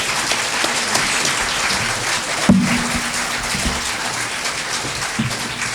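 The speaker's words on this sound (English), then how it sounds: "Give them a round of applause." Audience applause at the end of a round in a state senate district debate, a steady, dense wash of clapping from a crowd with one sharp knock partway through.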